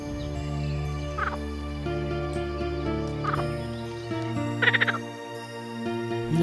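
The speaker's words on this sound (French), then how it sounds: "Il en est de même pour les grenouilles rieuses." Marsh frogs croak after rain in a sustained, close chorus, with a few sharper rattling calls breaking out over the low droning background.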